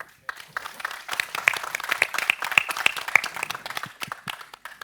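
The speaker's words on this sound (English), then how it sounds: "So a warm applause" An audience at an XR competition final applauds a presenter, with scattered, fairly loud claps of uneven rhythm and a few sharp tonal chirps over them.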